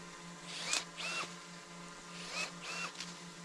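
A Milwaukee 12V cordless pruning shear cuts several branches, each cut a short motorized whir with a rising whine, coming in two pairs of bursts close up over a faint steady hum.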